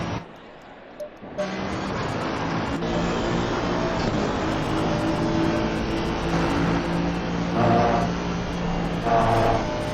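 A Mercedes race car in a sim racing game climbs a hill at Spa, its engine droning loudly and steadily as it builds revs, a continuous buzzing roar with a brief lull near the start.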